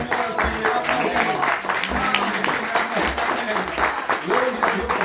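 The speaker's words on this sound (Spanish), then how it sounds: "Aplauda al Señor." A church congregation claps along in a rhythmic beat while voices speak and sing in Spanish over the steady clapping.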